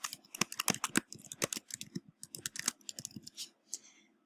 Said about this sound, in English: And then you start typing from here.